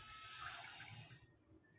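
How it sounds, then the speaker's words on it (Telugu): A glass of water is poured into a bowl of semolina, making a faint, brief hissing pour that cuts off after about a second. "ఒక గ్లాసు రవ్వకి 2 గ్లాసుల నీళ్ళు అయితే"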